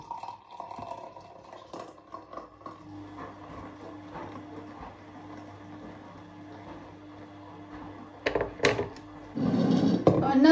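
A small amount of milk is poured into a drink at home during breakfast, a short liquid splash near the end that follows quiet kitchen clatter and faint background noise.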